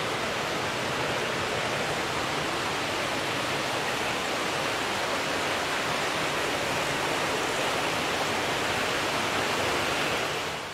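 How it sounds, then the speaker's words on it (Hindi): Water rushes steadily through a channel in a mosque courtyard, a dense, even broadband roar like a small waterfall that holds at a constant level from start to finish with no voices. "जो पानी का जो शोर आ रहा है।"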